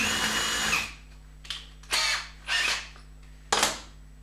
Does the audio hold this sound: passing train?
no